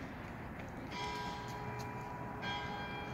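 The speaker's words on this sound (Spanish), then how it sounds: "ahí está la campana de la iglesia" A church bell rings in Bratislava's old town, a few faint tolls sounding over steady outdoor background noise.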